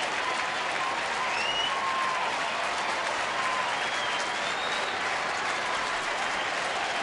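A baseball stadium crowd of more than 40,000 rises to its feet with steady, dense cheering and applause that rolls on without a break and sounds broad and distant.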